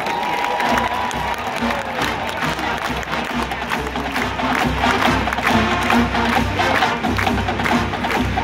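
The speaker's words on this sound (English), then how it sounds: "another round of applause for the Auburn University Marching Band" Stadium crowd cheering and applauding for the Auburn University Marching Band at a military appreciation halftime show, a loud, steady roar of clapping and shouts sustained throughout.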